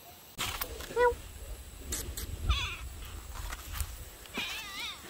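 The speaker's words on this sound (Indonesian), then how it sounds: "Miau. Ini kucing" A cat meows several times, some calls short and faint, others clearer, over a quiet background with occasional clicks and rustling.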